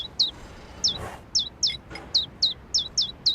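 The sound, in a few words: hungry baby birds chirping in A New Beginning video game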